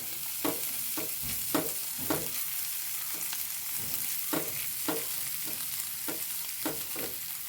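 Crushed green chili, ginger and garlic fry in a pan with a constant sizzling hiss, punctuated by regular scraping strokes of a spoon stirring, close and without voices.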